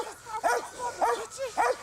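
A police K9 dog barks four sharp times in a steady rhythm, fairly close, with short gaps between each bark.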